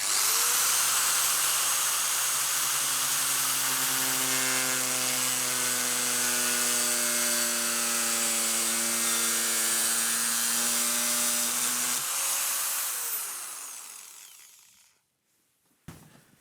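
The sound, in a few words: drilling a hole in a wooden hand plane body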